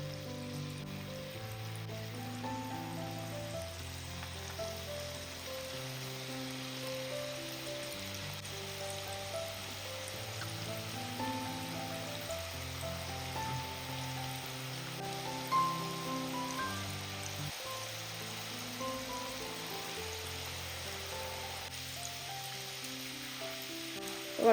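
Tapioca (kappa) snack batter squeezed into very hot oil sizzles and crackles steadily and up close, with a continuous bubbling hiss and no talking.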